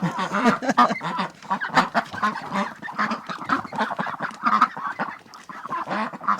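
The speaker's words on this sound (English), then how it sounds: "So much of what we do gets paused and stopped to accommodate the ducks." A flock of ducks quacks and honks continuously and loudly up close in a busy, overlapping chorus.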